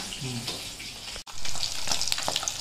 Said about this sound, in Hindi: फ्राई हो रहा है इधर अभी तो इधर क्या कर रहा है इधर फ्राई होके तैयार हो गया है